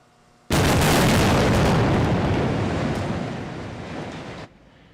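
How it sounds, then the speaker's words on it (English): A controlled demolition blast brings down storm-damaged construction cranes at the Hard Rock hotel collapse site. A sudden, loud, broadband roar bursts in and rumbles steadily for about four seconds, fades slightly, then cuts off abruptly. "Officials decided to use an explosion to take down those cranes."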